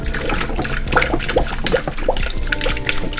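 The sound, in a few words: liquid poured into car engine bay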